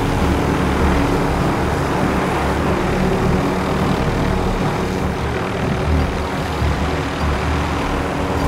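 Steady, loud propeller airplane engine drone during a flight in a battle royale video game, a constant broadband roar with no breaks for the whole stretch.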